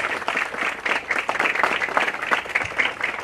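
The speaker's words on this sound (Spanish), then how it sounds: "Aplausos para nuestra reina que nos sanamos." An audience at a ceremony unveiling a canton's tourist letters applauds, giving steady, moderately loud clapping that continues throughout with no voices on top.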